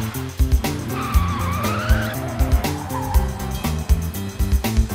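A monster truck revs its engine and skids, loud engine bursts and squealing tyres over bouncy music with punchy beats.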